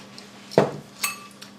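Sugar goes into a bowl during home cooking: a sharp clink of a spoon against the dish, then a second lighter clink, both close and otherwise quiet.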